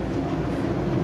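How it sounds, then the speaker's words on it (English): Inside a Stadler FLIRT commuter train on Metrolink's Arrow line, a steady low rumble and rolling hum fill the cabin, with no clear voices. "So this is my first time riding on a Stadler FLIRT type commuter train,"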